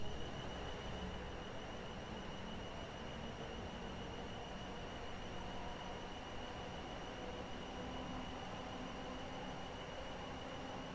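A BR Class 444 Desiro electric train running in a train simulator game, heard as a quiet, steady rumble of wheels and motor with a faint sustained whine, continuous and even, with no talking.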